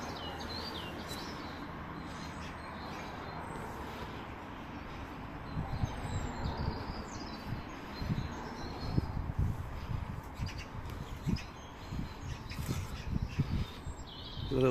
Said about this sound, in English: There's quite a lot of birds around, you can hear a lot of bird song in the background there.